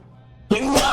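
A sudden close, loud sneeze breaks out after a quiet stretch, bursting forward with a throaty, voiced edge that lingers to the end.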